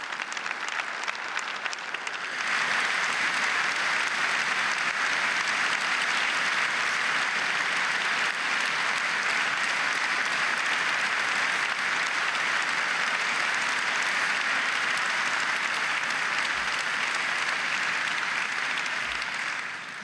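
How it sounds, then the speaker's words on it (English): Audience applause at the Daimler Annual General Meeting of shareholders, a large hall filling with sustained, even clapping that swells after a brief start and holds loud and steady for the full stretch. "Such an applause"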